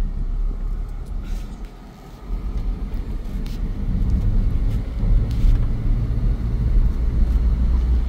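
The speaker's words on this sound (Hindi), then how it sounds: "सबसे ज्यादा टफ होता है कार को टर्न करना" A car driving on a road during a driving lesson, second gear while turning, gives a continuous low engine and road rumble that swells slightly toward the end, heard from inside the cabin.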